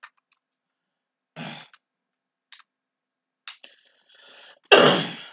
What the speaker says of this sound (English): Excuse me if I'm coughing a lot.